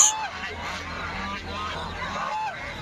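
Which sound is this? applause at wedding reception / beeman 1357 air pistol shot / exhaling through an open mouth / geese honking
geese honking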